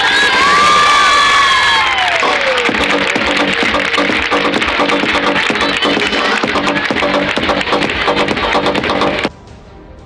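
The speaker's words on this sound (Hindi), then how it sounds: "मेरे रजाकारों के लिए ढेर सारी तालियां बजाएं" An audience at a civil defence ceremony at Viqar-un-Nisa College in Rawalpindi claps and cheers for the volunteers, a dense, loud wash of applause and shouts with an early whistle-like sweep, cutting off abruptly near the end.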